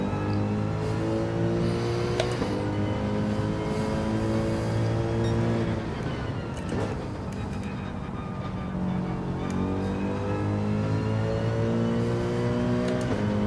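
A car engine drones continuously on a racing track in Gran Turismo 7, its pitch rising and falling with gear changes and acceleration. The sound is steady and fairly loud, with no talking.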